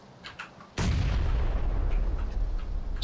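A grenade blast in the PUBG battle royale game hits with a sudden loud boom, then leaves a sustained heavy rumble that carries through the rest of the moment.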